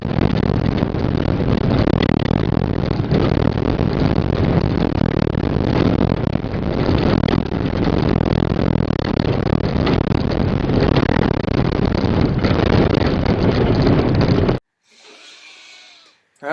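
Vehicle driving on rough roads in Tanzania, a loud continuous engine rumble with rattling and bumping that runs unbroken for most of the stretch, then cuts off to a brief quieter tail.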